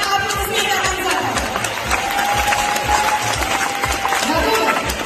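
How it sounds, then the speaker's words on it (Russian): Audience applause for the organizers at a New Wave singing contest, steady and dense clapping with crowd noise, and a voice talking over it. "Итак, аплодисменты организаторам."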